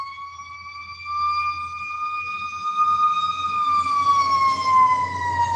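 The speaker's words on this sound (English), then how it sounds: "The sirens are going" Ambulance siren wailing outdoors, a steady sustained tone slowly rising then falling, moderately near and getting louder, over low traffic rumble with no talking.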